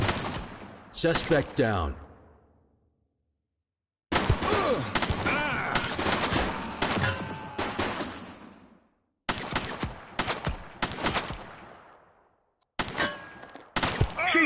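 Gunfire in the police video game The Precinct comes in loud sharp bursts of rapid shots, split by sudden silences, and a voice calls out among them.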